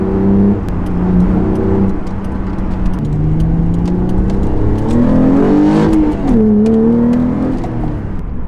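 A car accelerates hard in second gear, its engine droning loud and close from inside the cabin, pitch climbing steadily with a brief dip and rise near the end.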